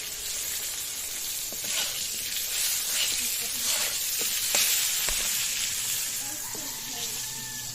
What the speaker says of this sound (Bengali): আমার আলু কিন্তু ভাজা ভাজা হয়ে গেছে